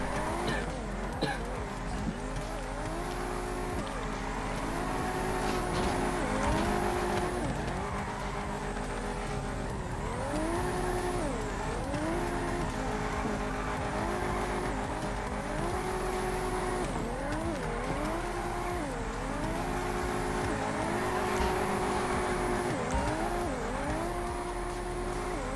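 A Cadillac CTS-V wagon in the GTA FiveM video game at a street sideshow, its engine revving and droning steadily in rising and falling sweeps with tire squeal throughout, close and continuous.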